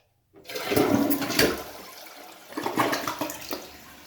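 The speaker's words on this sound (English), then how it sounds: "let's give it a flush" A toilet flushes after its wax ring seal has been replaced, a close, loud rushing of water that starts abruptly, eases off, then swells again as the bowl drains and refills.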